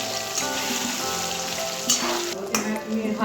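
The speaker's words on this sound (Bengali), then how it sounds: "ভেজে নিচ্ছি।" Paneer and vegetables marinated in turmeric, salt and chili sizzle steadily in hot oil, a close, continuous frying hiss with occasional stirring and a soft voice underneath.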